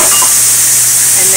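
Cooked noodles dumped onto a hot grill with steaky meat, setting off a loud, dense, continuous sizzle with steamy hiss.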